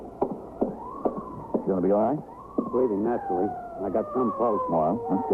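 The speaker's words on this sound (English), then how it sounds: "That's the ambulance." An ambulance siren wailing in an old-time radio police drama, a steady rising and falling tone running beneath urgent dialogue between several voices throughout.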